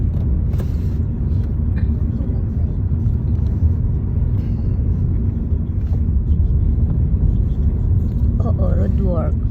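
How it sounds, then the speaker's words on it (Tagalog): Roadside repair work on a street, heard as a steady low rumble of machinery and passing vehicles throughout, close and continuous, with people talking faintly over it. "Road work."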